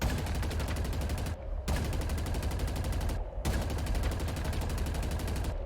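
Rapid bursts of weapon fire from a Covenant plasma cannon mounted on a Phantom in Halo Infinite, a dense continuous rattle that breaks off briefly twice before resuming, loud and close with no talking.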